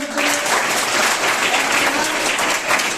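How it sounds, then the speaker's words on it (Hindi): A steady burst of applause from a group of children in a classroom quiz, dense and continuous clapping at close range for a few seconds. "ताली बजाओ।"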